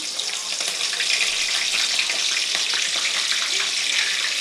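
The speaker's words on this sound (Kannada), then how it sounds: "ಎಣ್ಣೆ ಕಾದಿದೆ. ಈರುಳ್ಳಿ, ಒಣಮೆಣಸಿನ್ಕಾಯಿ ಹಾಕೊತಾ ಇದ್ದೀನಿ ನೋಡಿ." Onions and dried red chillies frying in hot oil, giving a loud, continuous, close sizzle with a crackling hiss that holds steady throughout.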